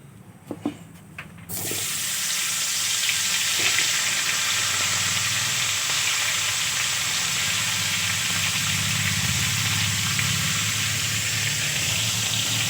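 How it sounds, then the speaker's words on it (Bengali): Cauliflower florets dropped into oil left from frying eggs: a few quiet taps, then a loud, continuous sizzling hiss that holds steady to the end. "ডিম ভাজা তেলের মধ্যে ফুলকপিগুলো ভেজে নেব"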